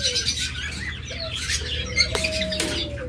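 Pet birds such as budgerigars, lovebirds, cockatiels and diamond doves squawk and chirp at a breeding farm, a busy mix of short overlapping calls and a thin whistle, fairly close.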